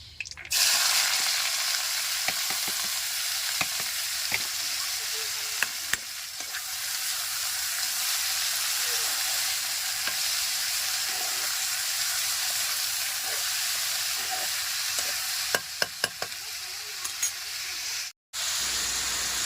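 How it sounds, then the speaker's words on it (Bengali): Bitter gourd frying in oil in a kadai in a home kitchen, a continuous bright sizzle and hiss that runs steadily close by with occasional stirring clinks, no talking. "তো ওই কড়াইয়ে আমি করলাটা ভেজে নেবো"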